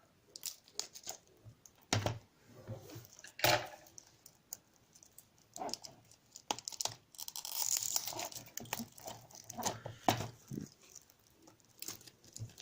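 Plastic foil is torn and crinkled off a boxed PC copy of Call of Duty: Black Ops, close and fairly quiet, with irregular rips, crackles and taps spread across the clip.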